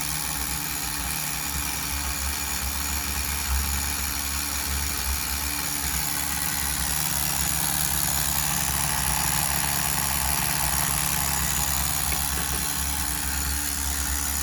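A nitro engine in a Tamiya TGS-R RC car idles steadily at close range during run-in, with a continuous buzzing, rattly hum and no change in pace or any voices.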